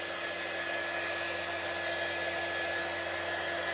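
A hair dryer blows steadily on a handmade standing reindeer craft, a constant close whirring hum with no pauses.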